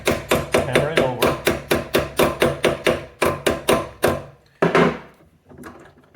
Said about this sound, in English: Hammer it over.